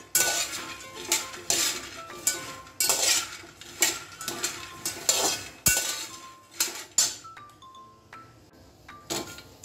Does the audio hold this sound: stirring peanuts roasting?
yes